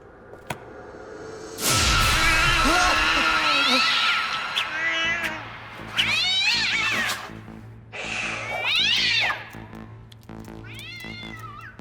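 A cat meowing loudly several times, drawn-out and wailing cries with a whoosh at the start and a low hum underneath.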